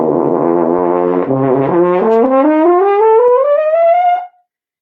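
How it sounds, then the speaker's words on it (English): A brass horn climbs the harmonic series on a single valve combination, stepping upward through about a dozen sustained notes that crowd closer together as they rise, played alone and loud before stopping abruptly. "when you play one pitch on any valve combination on a brass instrument, a horn in particular, you're playing the harmonic series."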